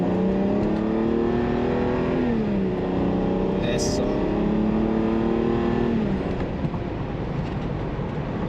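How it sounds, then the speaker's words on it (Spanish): A BMW accelerating on a test drive after misfire repairs, the engine note rising steadily and shifting pitch as it pulls, heard from inside the cabin with a brief spoken word over it. "Ahí se siente que es un BMW. Y pues sí, acelera bien"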